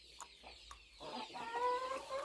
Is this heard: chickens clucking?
yes